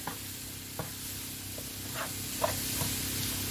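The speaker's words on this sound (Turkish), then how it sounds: "Bunları böyle soteliyoruz." Leeks sautéing in a lightly oiled pan for a börek filling, giving a soft, steady sizzle at close range, broken by a few quiet stirring scrapes.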